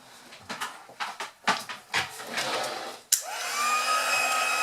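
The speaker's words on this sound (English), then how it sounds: "let's put this away and grab my heat tool." A crafting heat tool switches on after a few clatters and taps of handling, then blows hot air with a steady, fairly close whirring hiss that holds to the end.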